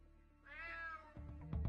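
A cat meows once in the Unmetal video game, a clear drawn-out mew with a rising and falling pitch, followed by louder game sounds.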